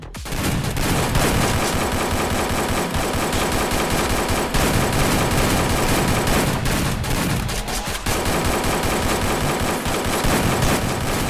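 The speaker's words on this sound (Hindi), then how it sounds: "चलो शुरू करो फायरिंग।" Continuous loud automatic gunfire in the Free Fire video game, dense rapid bursts overlapping with barely any pause across the whole stretch.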